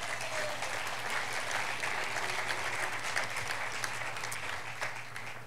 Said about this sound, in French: Donnez-moi l'applaudissement.